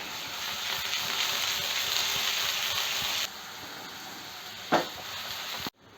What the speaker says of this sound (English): Once the oil is warm, add half a teaspoon of cumin, 1 large onion finely chopped